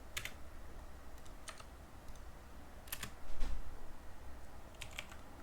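Keys clatter on a computer keyboard in short irregular bursts of crisp clicks over a low steady room hum, with brief pauses between strokes.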